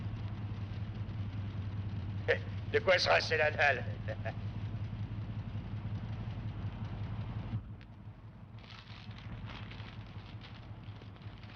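A car engine left idling, a steady low rumble that runs throughout, close and constant, with people talking over it; the rumble drops quieter near the end.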